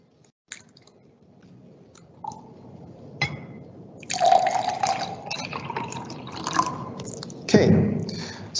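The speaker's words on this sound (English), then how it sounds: "let me add in some water in each of the cup" Water poured from a container into several cups set out on a table for a stain-cleaning demonstration, heard as a few short splashing fills spread across the moment, with quiet speech-like murmurs between them.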